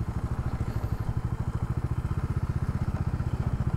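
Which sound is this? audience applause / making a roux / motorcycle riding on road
motorcycle riding on road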